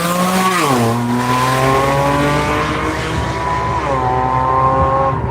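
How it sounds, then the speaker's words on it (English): A Porsche race car driven at One Lap of America on the NCM track roars loud and close, its engine pitch dropping sharply then holding steady before another shift, with faint tire noise. "Tim Curl next in his Porsche."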